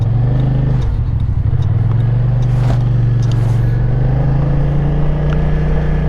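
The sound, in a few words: car passing on a road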